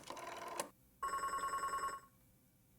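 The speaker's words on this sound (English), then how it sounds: "Didn't even know there was a phone there." A telephone rings in the video game Beacon Pines, with two bright electronic ring bursts separated by a short silence, clear and close with no talk.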